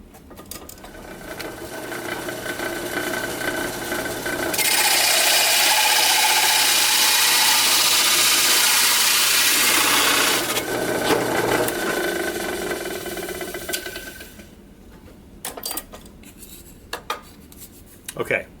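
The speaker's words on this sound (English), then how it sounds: "I am going to drill a hole with this 1 3/4 inch bit" A drill press with a 1 3/4 inch bit bores through scrap wood: a motor hum builds into a loud, steady grinding roar for about six seconds, then eases off and trails into scattered knocks and clatter.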